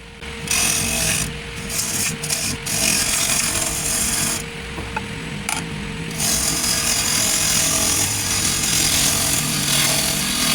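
A bowl gouge cuts a camphor laurel bowl spinning on a wood lathe, giving a continuous rough shearing and rasping sound over the lathe's motor hum, with brief pauses between passes.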